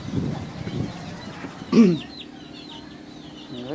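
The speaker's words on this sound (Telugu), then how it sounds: "ఇవి మా కోడి పిల్లలు." Chickens clucking nearby near Hitech City, Madhapur, Hyderabad, a few low clucks followed by a sharper squawk and faint high peeping chicks in the background.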